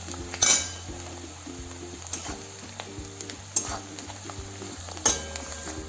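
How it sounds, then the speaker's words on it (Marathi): Semolina roasts in oil for upma while a spoon stirs it, producing a soft sizzle with repeated sharp clinks and scrapes of metal against the pan and a low steady hum underneath. "रवा घालून आज थोडंसं छान परतून घ्यायचं सगळं म्हणजे तेल आणि हे रवा एकजीव होईपर्यंत"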